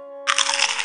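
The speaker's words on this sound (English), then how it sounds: "Did you hear that crunching sound?" A cartoon crunch sound effect breaks in suddenly over a faint steady tone, a loud bright crackling burst that holds for most of a second with no talking.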